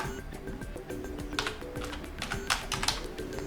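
Keys clatter on a Lenovo IdeaPad 5 laptop keyboard in a quick, uneven run of close, crisp taps and small bursts over a low room hum, with no talking.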